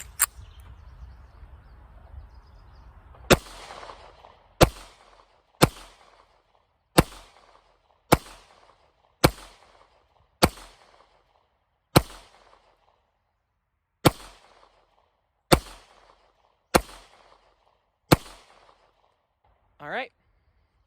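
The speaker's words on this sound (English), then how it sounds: "We're going to shoot it, and then we're going to test some other things about it." A pistol fitted with an XPG-R5 flashlight fired outdoors: about twelve sharp, loud gunshots spaced a second or two apart, each with a brief ringing decay, followed by a short chirp-like sound at the end.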